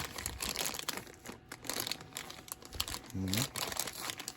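Crinkly plastic packaging of a Catwoman action figure handled and turned over, with scattered crackles and rustles at close range under a person speaking.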